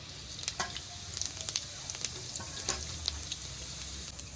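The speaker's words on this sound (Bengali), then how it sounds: "গরম তেলে কিছুটা জিরে ফোড়ন দিয়ে নেব" Cumin seeds tempering in hot oil for a chicken biryani, a soft steady sizzle broken by scattered crackles and pops.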